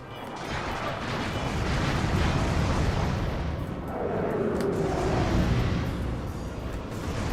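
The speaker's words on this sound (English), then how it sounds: "There's fireworks going on." Fireworks rumble and crackle continuously in the Ratchet and Clank: Going Commando game, a dense, loud wash of booming bursts that swells and fades over several seconds.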